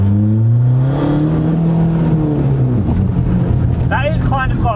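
A 300+ BHP Skoda Fabia vRS pulls away in first gear, engine note rising steadily before a gear change, heard from inside the car while people talk over it.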